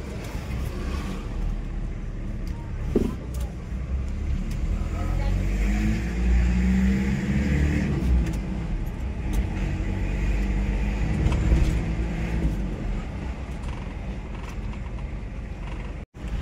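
A Toyota Qualis on a road trial after a clutch repair, its engine droning steadily at speed with broadband road and wind noise throughout, a few brief knocks, and no talking.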